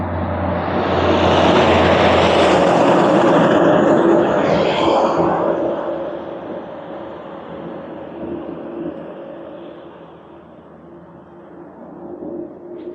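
Scooter riding through Kiotari on Rhodes, a loud steady rush of wind and engine drone that swells early then eases into a quieter, continuous hum with no talk.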